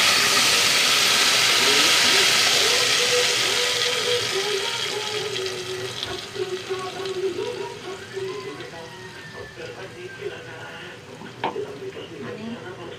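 Ground spice masala for a chicken curry hits hot oil with a loud, broad sizzle that slowly eases, while steam hisses and the pan is stirred, with brief scraping knocks near the end.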